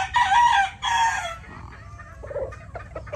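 A broad gamefowl cock crows loudly and close, with two strong bursts, then softer clucking calls follow in the quiet afterward.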